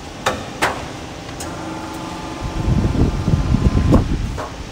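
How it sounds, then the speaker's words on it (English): Press machine on a garage door panel production line, sharp knocks, then a louder clattering, thumping mechanical run over a constant factory hum and fan noise. "They fix the panel into the slot and fix the panel position on the press machine"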